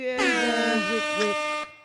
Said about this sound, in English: I love the Jamaican air horns